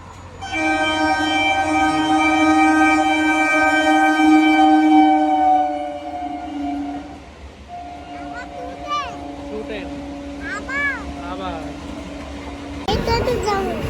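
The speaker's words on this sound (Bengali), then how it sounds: "এই ট্রেন ঢুকছে দেখ থ্রু ট্রেন ঢুকছে" A train horn blares loud and long for several seconds as a through train rolls into a station, followed by rumbling rail noise with people talking nearby.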